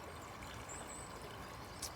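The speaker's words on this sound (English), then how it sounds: "you can actually hear the sound of the creek." A creek flows outdoors with a faint, even rush of water that stays constant throughout, with only a tiny splash near the end.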